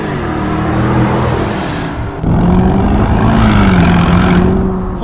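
A 2023 Range Rover P530 L460 Vogue with a turbocharged V8 revs through a Quicksilver exhaust, giving a loud, continuous engine roar. A brief dip comes partway through before the pitch climbs and falls again.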